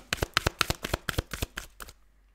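A deck of cards riffled and shuffled in a quick burst of about a dozen crisp, close snaps over two seconds, ending abruptly in near silence.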